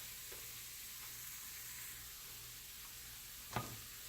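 Flour and fat roux cooks quietly in a pan for turkey gravy, giving a faint, steady low sizzle with one brief clink of a utensil near the end and no talking.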